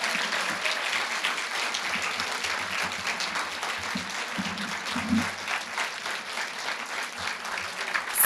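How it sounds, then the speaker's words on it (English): Sustained round of applause from an audience of parents, families and teachers at a 4-H public speaking event, many hands clapping steadily at moderate distance for several seconds without letup. "Let's give all of our participants a huge round of applause."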